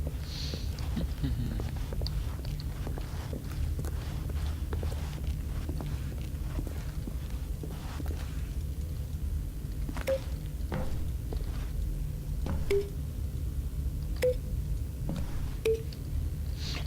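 Short electronic beeps from buttons being pressed in the game The Stanley Parable sound intermittently over a steady low background hum, several distinct tones spaced a second or two apart.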